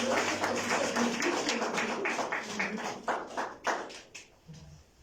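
Church congregation clapping for the Lord during a Sunday service, a dense burst of many hands that thins into scattered claps and fades out over a few seconds.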